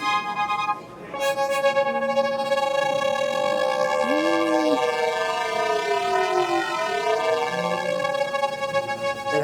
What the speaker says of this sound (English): So we do a VCM recreation of the CS80 ring modulator effect.